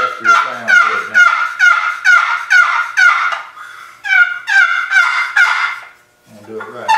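A turkey paddle call worked with its lid canted inward toward the sound chamber gives a run of raspy, close yelps, about seven in a steady rhythm, a short pause, then a second run of four or five.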